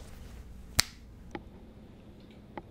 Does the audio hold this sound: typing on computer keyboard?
no